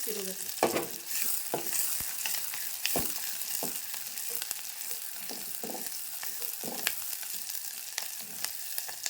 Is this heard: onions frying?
yes